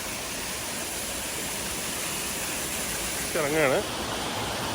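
The Rock Garden waterfall in Darjeeling roars as a steady, loud, broadband rush of falling water throughout, and someone speaks briefly near the end over the constant noise.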